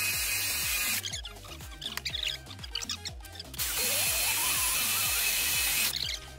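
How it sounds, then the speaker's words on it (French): Electric drill boring holes inside a van conversion, its whine surging in two long bursts with a pause of clattering and handling noise between them, close and loud. "Avec sa perceuse qui perce rien"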